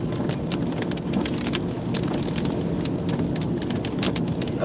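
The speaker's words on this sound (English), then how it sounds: "it looks like I'm going to be driving through some rain" Steady rain drums on a car while driving through Georgia near Valdosta, a dense continuous patter with sharper drops ticking over the road and engine rumble, no voices.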